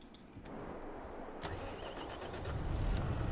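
Lamborghini tractor engine in Farming Simulator 22, a few sharp clicks and then the engine rising into a steady low rumble, no talk.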